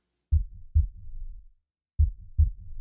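Heartbeat sound effect in a narrated story, heard as two clear pairs of deep, thumping lub-dub beats separated by a pause, close and loud with no talking.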